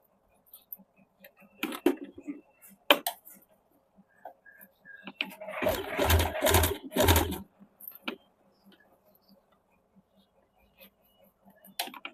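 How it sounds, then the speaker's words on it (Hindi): A sewing machine stitching suit fabric makes scattered light ticks and clicks, then runs in a short loud burst of about two seconds before falling back to sparse taps. "कपड़े को सीधा करके 1 फुट के हिसाब से इसमें चाप सिलाई चला देंगे।"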